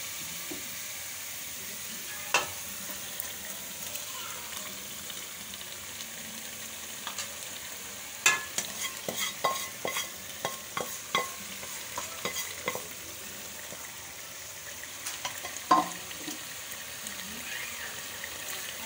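Fried chicken tikka pieces being stirred into a simmering karahi gravy of tomato purée and onion paste, giving a low steady sizzle with scattered scraping clicks of a spoon against the pan, clustering in the middle and faint near the end.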